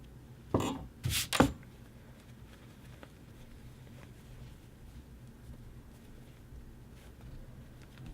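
Scissors trim the seam allowance on a men's shirt collar band, giving a quick cluster of three or four close, crisp snips near the start before the room falls quiet.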